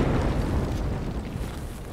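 A mortar explosion in the Arma military video game, heard as a heavy, sustained low rumble that rolls on for a couple of seconds and slowly fades.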